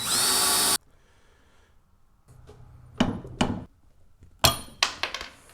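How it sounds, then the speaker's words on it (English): A power drill whines loudly for under a second drilling a small hole in an axe-head wedge, then quiet followed by several sharp metallic clinks and short tool bursts at close range. "I'm just going to drill a little hole in there and then put a screw in"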